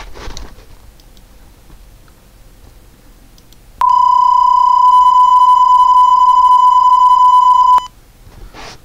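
A low-speed digital data signal sent over a handheld two-way radio: a single loud, steady electronic tone with rich harmonics holds for about four seconds after a quiet stretch of background hiss, then cuts off abruptly.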